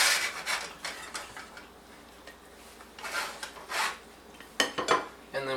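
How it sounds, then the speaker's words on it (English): Dumplings are lifted onto a plate with utensils, producing a few scraping rubs and light clinks of metal on ceramic, close and fairly quiet, ending in a couple of sharper taps. "So we'll take a couple of dumplings, put them onto our plate."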